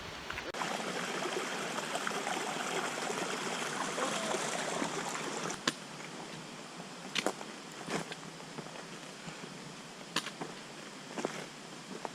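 A wilderness river flows in a steady, broad rush of water. Several sharp clicks and knocks, like footsteps on riverbed stones, sit on top of the flow toward the end.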